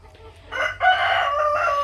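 Chickens on a small hobby farm: a rooster's loud, close crow rises and holds for about a second, with faint clucking beforehand.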